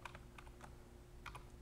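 Short burst of typing on a computer keyboard, a few quick clustered key clicks with a pause between them, close and quiet.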